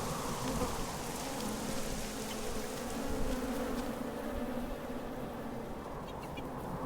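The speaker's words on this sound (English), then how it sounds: "I hear bees." Bees or flies buzz steadily and close in the underwater-city game Submerged, a dense, continuous insect drone that holds for the whole stretch with no voices.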